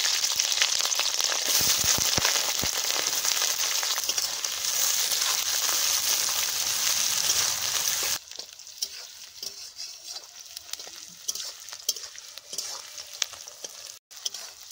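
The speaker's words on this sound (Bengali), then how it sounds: "পেঁয়াজ আর কাঁচা লঙ্কা হালকা ভেজে নিলাম" Onion and green chillies sizzling in hot oil after whole spices go in, making a loud, steady frying hiss with stirring scrapes that drop to a quieter sizzle partway through; no one speaks.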